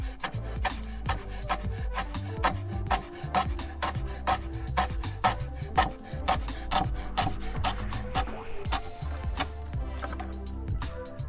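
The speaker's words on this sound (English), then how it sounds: "And then get your knife out and just do some nice tiny strips." A knife slices rolled basil leaves into thin strips on a cutting board, rapid steady chopping taps in quick even rhythm, close and moderately quiet with no talk.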